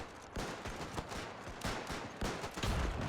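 Rifle fire in a World War One battle game, a dense stream of overlapping gunshots and volleys, loud and continuous with repeated sharp cracks throughout.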